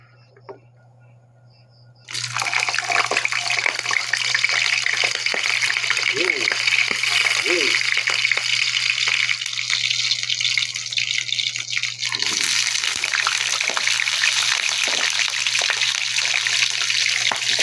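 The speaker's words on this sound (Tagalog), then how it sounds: "prituhin na natin yung ating mga tempura" Tempura battered pieces deep frying in hot oil, a quiet hum that bursts into a loud, continuous bubbling hiss as they go in, with a person talking over it.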